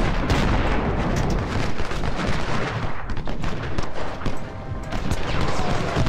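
Continuous cannon and artillery fire in the Civil War strategy game Ultimate General at First Bull Run, dense booming volleys and musketry rumbling without pause, loud and steady throughout.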